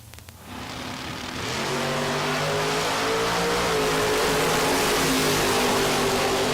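Drag racing cars launching down the track at the Texas Motorplex bracket races, engines rising from a low rumble into a loud, sustained full-throttle roar that builds over the first two seconds and holds.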